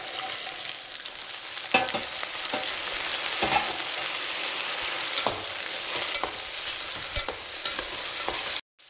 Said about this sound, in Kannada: ನೀಟಾಗಿ ಹಸಿ ವಾಸನೆ ಹೋಗೋವರೆಗೂ ಫ್ರೈ ಮಾಡ್ಕೋಬೇಕು, ಆವಾಗ ಚೆನ್ನಾಗಿರುತ್ತೆ.